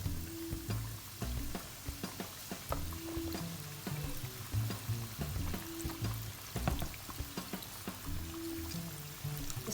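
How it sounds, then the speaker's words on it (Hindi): Coated chicken deep fries in hot oil in a kadai, a steady bubbling sizzle with scattered pops and crackles, moderately close and unbroken, with no talking. "अब इसको अपनी कढ़ाई में डाल के डीप फ्राई कर लेते हैं।"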